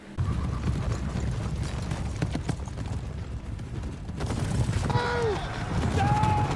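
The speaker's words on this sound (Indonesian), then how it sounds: "Saat pasukan kuda itu mendekat, mereka pun berhasil terjerumus ke dalam jebakan parit-parit Robert" Cavalry horses in a medieval film battle scene charge with dense, continuous hoofbeats over a loud rumbling din, with shouts and whistling tones rising toward the end.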